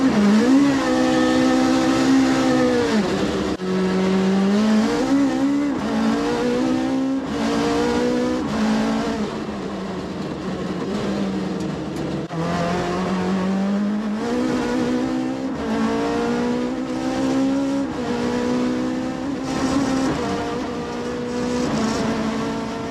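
Car engine of 'Baby Blue', a car driven on the Summit Run 2021, revs and pulls hard through repeated rising gear runs, loud and close with no talk over it.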